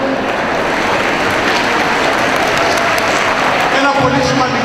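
A crowd claps steadily for a deputy regional governor at a cultural association's pie-cutting event, with voices and background chatter under the applause and a brief shift near the end.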